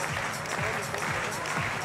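At a bouldering finals in Munich, a crowd applauds a climber with dense, steady clapping that stays loud throughout, with some voices mixed in.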